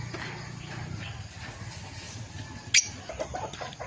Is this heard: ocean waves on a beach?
no